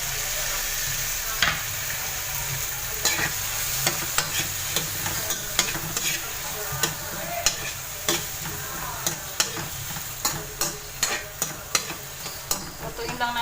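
Tomatoes frying in a pan for ginisang talong, sizzling steadily while a utensil stirs and scrapes them in repeated close strokes, with no talking.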